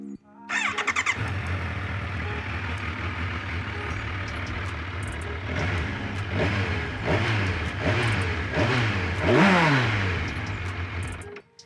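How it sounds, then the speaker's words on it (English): The inline four-cylinder engine of a 2021 Kawasaki Versys 1000 motorcycle idles with a deep rumble, then revs up several times, the pitch climbing and falling close by. "since this is an inline 4-cylinder motorcycle, you get to hear this."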